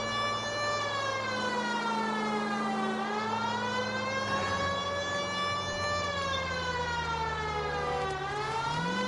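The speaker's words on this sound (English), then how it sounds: "Oh, put the siren on." A police car siren wails in the 1940s Los Angeles detective game L.A. Noire, a loud, continuous rising and falling tone that sweeps slowly up and down with engine rumble beneath and no speech.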